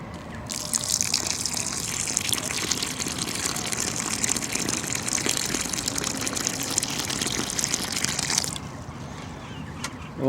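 Water pours steadily from a hose or can onto dry soil around newly planted soft fruit in a garden, a continuous close gushing and splashing that runs for several seconds before stopping abruptly.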